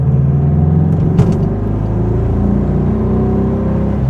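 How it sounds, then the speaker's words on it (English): A 1966 VW Type 3 engine with a new single-port dual 34 carburetor setup runs steadily with a low rumbling idle, and a quick throttle blip briefly raises the revs before it settles again, loud and close. "By rev match, I mean just blip the throttle."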